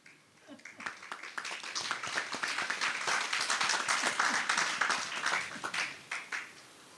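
A crowd at a Hindu Lakshchandi Mahayagna gathering in Barumal, Gujarat, breaks into applause that swells quickly, holds as a dense roar of hand claps, then thins out into a few scattered claps.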